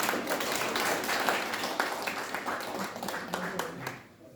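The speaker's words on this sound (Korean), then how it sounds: "다시 한번 박수 부탁드리겠습니다" Guests at a calligraphy exhibition ceremony clap together, moderately loud and close, under some murmured voices, before the applause thins and fades out at the end.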